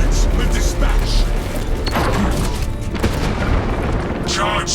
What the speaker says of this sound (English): Charge detonated.